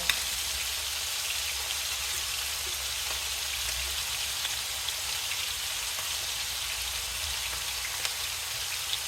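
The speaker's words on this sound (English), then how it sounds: "second batch of mushrooms are going into the original olive oil" Oyster mushrooms fry in olive oil, a steady close hiss with fine crackles and occasional pops, continuous and even throughout with no talking.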